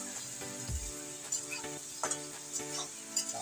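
Onions softened with salt and chicken pieces frying together in a pan, a steady close sizzle broken by scraping stirs and light clinks of a utensil, with no talk.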